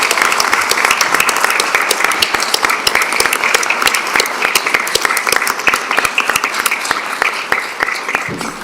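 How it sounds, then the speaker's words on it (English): An audience applauds steadily at a school board meeting in honor of educators, dense clapping sustained throughout at a fairly close, even level. "Will the audience please join me in a round of applause for all of our educators?"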